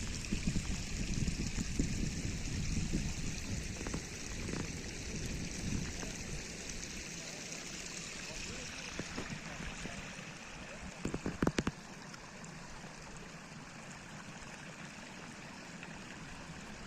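Water pours steadily into a low fish pond, a continuous splashing, rushing flow heard up close, with a few scattered knocks and brief clatters partway through.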